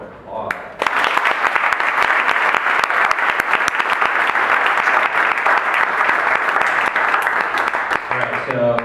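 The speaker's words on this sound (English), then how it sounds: "Let's give them a round of applause." A room of listeners at a startup-world panel event breaks into loud, sustained applause that starts abruptly after a brief voice and holds steady for about eight seconds, with speech returning at the end.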